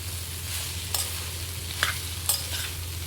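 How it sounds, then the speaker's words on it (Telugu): Cooked rice is stirred into a pan of broccoli and mushroom fried rice: a low frying hiss with three or four distinct scraping clinks of the spatula, no voices. "రైస్ అంతా బాగా కలిసేటట్టు కలిపేసుకోవాలి."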